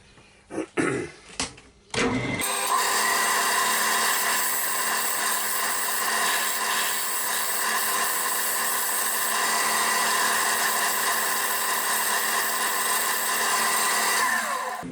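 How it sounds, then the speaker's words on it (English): A side scraper smooths ridges on a domed padauk wood box spinning on a lathe: a couple of brief knocks, then a loud, steady, close scraping whir that runs unbroken to the end. "There's a couple of ridges there, so I'm just going to go over it with a scraper."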